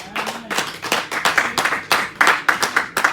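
A church congregation claps together in quick, uneven bursts of hand claps that come close and loud for a few seconds.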